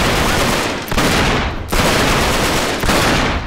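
Loud, dense gunfire in the video game Uncharted 3, sustained bursts of rapid shots broken by brief pauses, with no voices over it.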